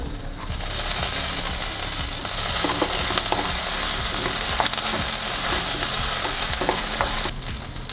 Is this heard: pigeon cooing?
no